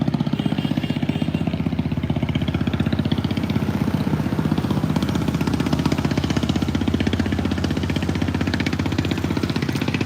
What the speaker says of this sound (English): That is a loud boat.